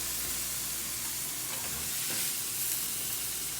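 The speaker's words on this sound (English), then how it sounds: "I would say roughly portobello mushrooms take anywhere from 10 to 15 minutes to fry." Portobello mushrooms and onions fry in a pan with a dense, steady sizzle and hiss, close and continuous, with no talking.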